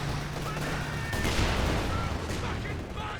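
Vickers machine gun fire in the video game Company of Heroes 2 during a 1v1 match, rapid bursts crackling over a rumbling battlefield for about three seconds, with softer distant shots trailing behind.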